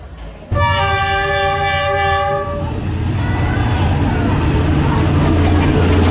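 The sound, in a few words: train arriving at station with horn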